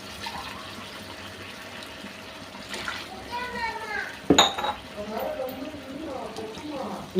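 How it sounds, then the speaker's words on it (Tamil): Water pours and splashes into a pot, gushing unevenly in bursts, while a person speaks over it. "இப்போ நம்ம ஒரு ஒன்றரை டம்ளர் தண்ணி ஊற்றிக்கலாம்"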